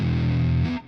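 An electric guitar run through a pitch-shift pedal that drops its pitch down, a loud sustained distorted tone that shifts lower and fades out within a second.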